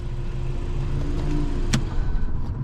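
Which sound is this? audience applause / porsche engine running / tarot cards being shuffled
porsche engine running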